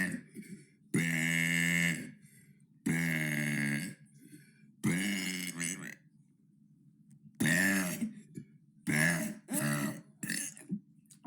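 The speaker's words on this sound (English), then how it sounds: "That was day 43 of burping for 100 days." A person burps repeatedly, a series of loud, close, drawn-out belches separated by short quiet gaps.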